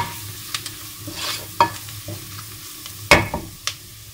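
Ground ginger, black pepper, turmeric and bay leaves fry in a pan for rice and chicken, with a spoon giving sparse scraping stirs and a couple of sharper knocks over a low sizzle, close and alone.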